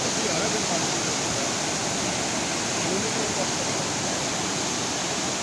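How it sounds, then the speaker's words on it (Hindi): Kempty Falls, a waterfall in the hills near Mussoorie, roars as a dense, steady rush of falling water, loud and constant throughout with no breaks. "आप जो ये पानी देख रहे हो ये केम्प्टी फॉल ही है।"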